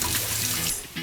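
Warm water pouring from a vessel for pita (mikate) dough, a steady close trickle filling the container for about a second, with harmonic hum from the room underneath.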